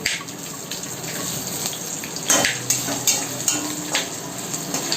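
Dried red chillies frying in hot tempering oil with asafoetida and cashews, a steady close sizzle with soft crackles and a few sharper pops, no voices.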